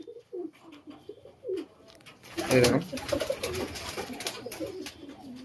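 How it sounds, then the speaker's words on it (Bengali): Pigeons in a loft holding around three hundred birds coo in soft, low repeated calls, then a burst of rustling and fluttering rises as cooing continues; a person speaks briefly. "মানে এখানে 300-র কাছাকাছি পায়রা আছে।"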